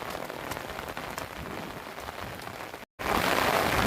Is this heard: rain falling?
yes